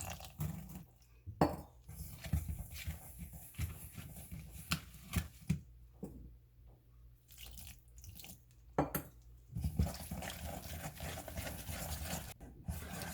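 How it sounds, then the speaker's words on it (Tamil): Wet stirring and sloshing of a thick jalebi batter being mixed with water, in irregular bursts with short pauses between, close up. "இப்போ கொஞ்சம் கொஞ்சமாக தண்ணி சேர்த்து நல்லா மிக்ஸ் பண்ணிக்கலாம்."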